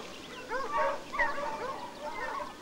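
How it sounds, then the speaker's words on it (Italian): Dogs belonging to a goat shepherd bark and yelp in the distance, probably after flushing a wild boar in Sardinian hills, in several uneven, echoing bursts of moderate loudness. "Sono i cani di Ammesturao, il pastore che pascola le capre lassù."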